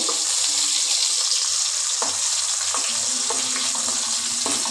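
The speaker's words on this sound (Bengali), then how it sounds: "দেখো এক পিঠ আগে ভাজা হোক তারপরে আবার উল্টে দেবো" Fish frying in oil one side at a time make a continuous close hiss and crackle, with a few soft knocks from the pan and no voices.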